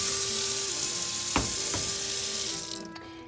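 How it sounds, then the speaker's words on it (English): Water runs steadily from a tap into a measuring cup of raisins, a close hissing stream with a couple of brief splashy knocks, tapering off near the end with no speech. "we want to fill it up with water so it's completely covered"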